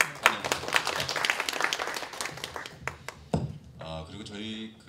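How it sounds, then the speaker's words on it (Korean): Conference audience applauding to welcome a professor at a welfare-state forum, moderate clapping that thins out while a voice talks over it toward the end. "여러분 박수 환영합니다"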